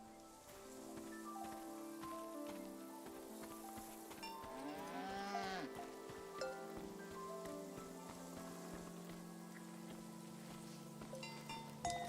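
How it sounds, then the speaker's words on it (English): In the bicycle-journey game Season: A Letter to the Future, a cow lets out one long, drawn-out moo midway through, set against steady rain patter and soft sustained music tones. "You are a cow and you are named Krasnahorkai."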